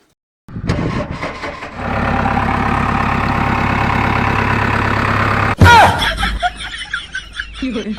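A tractor engine cranks, catches and settles into a loud, even diesel idle after repair work on a cracked block. A sharp clatter breaks in near the end, followed by uneven knocking.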